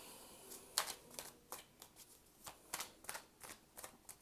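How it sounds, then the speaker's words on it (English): Tarot cards spill loose and get handled: soft papery flicks, slaps and riffles in an irregular run of quick bursts, close and quiet with no talking. "my cards are just spilling out all over the place"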